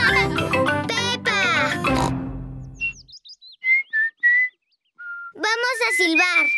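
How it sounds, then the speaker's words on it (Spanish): In a Peppa Pig cartoon, a voice speaks, then a series of short whistled notes follows in little sliding chirps and pauses before talking resumes. "Vamos a silbar."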